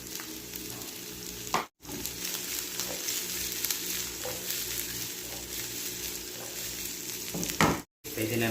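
Garlic and onion sizzle steadily in hot oil for corned beef sisig, a dense continuous frying hiss with occasional stirring, broken by two brief gaps.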